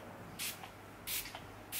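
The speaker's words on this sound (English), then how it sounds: "So the first one is the Innoxa Primer Spray." Three short hissing bursts of Innoxa primer spray mist from an aerosol can, close and crisp with quiet pauses between them.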